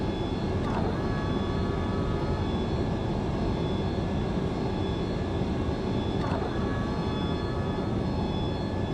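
Boeing 727-200 in a flight simulator, with a steady loud jet engine and airframe drone and tonal whines from the flaps moving, plus two brief clunks about five seconds apart.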